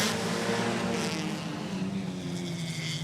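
Western sprint tour race cars roar together on a speedway track under a green flag, a dense, loud, continuous engine blare filling the whole moment without any talk.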